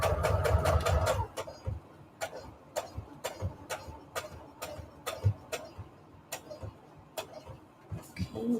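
A sewing machine stitches lace onto index cards in quick bursts of rapid mechanical ticking, stopping and restarting, close and clear with brief pauses between runs.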